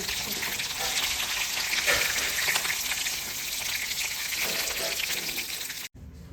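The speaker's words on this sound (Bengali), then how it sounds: "ইলিশ মাছের খুব একটা ভাজার দরকার নেই মাছগুলো ভাজা হয়ে এসেছে" Hilsa fish frying in hot oil in a home kitchen, a loud continuous close sizzle with bubbling spatter that cuts off abruptly near the end.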